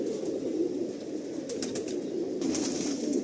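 Breeding pigeons, including two male Chatiyal birds, coo steadily in a loft in Behala, Kabardanga, a close, continuous low warbling with a few faint clicks and wing rustles.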